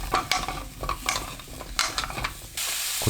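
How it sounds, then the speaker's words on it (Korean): Radish stir-frying in perilla oil in a pan over medium-low heat, a steady close sizzle with scraping stirs, loud and continuous for a few seconds without talking. "팬에 들기름 2큰술, 무 넣고 중약불로 켜서 1분 볶아주세요."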